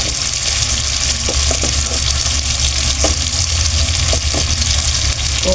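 Sweet potato and mixed vegetables go into a pan with crushed tomato and fish bagoong, frying in a steady, loud sizzle with a few scattered soft clicks and taps throughout, no voices.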